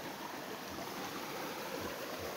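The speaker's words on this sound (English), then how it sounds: "Nice little river with a little bit of waterfalls." A small river with little waterfalls flows in a steady, broadband rush of water, constant and fairly close, with no voices over it.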